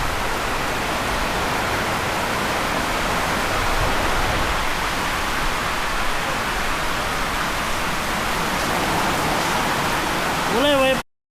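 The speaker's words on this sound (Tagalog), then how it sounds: "Grabe mga boss, kusog yung hangin." Strong wind roars outdoors as a loud, steady rush of broadband noise, continuous throughout until it cuts off abruptly at the end.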